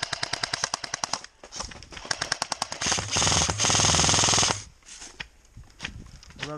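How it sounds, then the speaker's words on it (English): Rapid bursts of automatic gunfire from a seemingly bottomless video game gun during a tank defense match, coming in quick choppy volleys with one long sustained stretch of loud fire, no talk over it. "I love this gun, like, never runs out."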